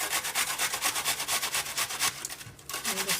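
Food is grated by hand into a pan while meat cooks for homemade spaghetti sauce, giving rapid rhythmic rasping strokes that pause briefly near the end and then resume, close by and without talk.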